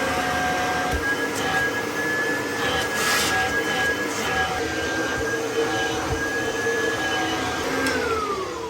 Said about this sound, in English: I've got the Kirby Heritage 2 in hose attachment mode